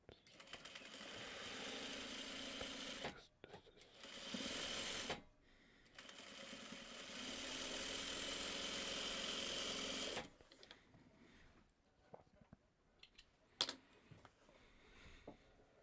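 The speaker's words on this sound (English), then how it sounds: "So I'm going to first sew this one on here." A sewing machine stitching in long loud runs, starting and stopping several times with short pauses between bursts, then quieter handling noises at the end.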